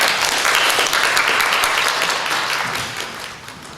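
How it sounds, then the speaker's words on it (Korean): A congregation applauds members of a home church group, dense steady clapping that gradually thins and fades toward the end, with no voices. "폴스타 훈독가정교회 여러분을 위해서도 박수 부탁드립니다"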